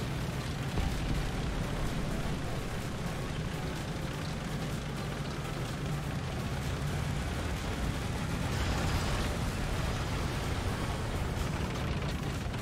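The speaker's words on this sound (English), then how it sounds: "There's definitely someone trying to get rockets on us." Rockets bursting around a Leopard 1 tank in War Thunder, heard as a steady, dense roar of rumbling explosions and crackle that stays loud and unbroken, with no talking.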